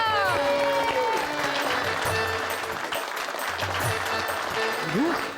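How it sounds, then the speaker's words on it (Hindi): An audience claps steadily throughout, mixed with bright musical sound effects and a few voices over the applause. "तालियां"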